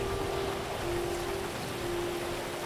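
Steady rain falling in the GTA5 video game, a dense even wash of rain noise with a faint steady tone running through it, constant and unbroken throughout.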